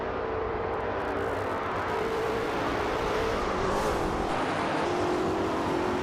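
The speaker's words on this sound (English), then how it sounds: "Telescope Beamer is racing a vintage Lola T290 from 1972" A vintage 1972 Lola T290 race car roars along the track in a steady, loud engine drone that swells slightly midway, with no voices.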